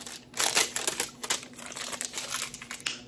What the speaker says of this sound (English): You just take the plastic off.